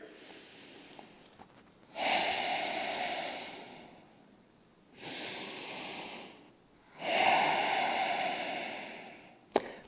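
Deep breaths during a yoga session come close to the microphone as three long, airy breaths, each lasting a couple of seconds, separated by quiet pauses.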